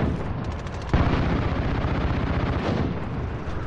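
Loud gunfire rattles through a Call of Duty Modern Warfare firefight in rapid bursts and overlapping shots, growing heavier after a second and continuing almost without pause.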